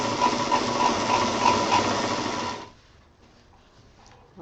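A sewing machine stitches fabric for a thermos case in a fast, steady whirring rattle for about two and a half seconds, then stops, leaving a quiet room.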